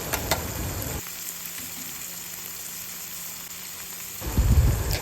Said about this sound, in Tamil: இது வதங்கினதுக்கப்புறம் இஞ்சி பூண்டு பேஸ்ட் கொஞ்சம் சேர்த்து நல்லா இதோட மிக்ஸ் பண்ணி விடுங்க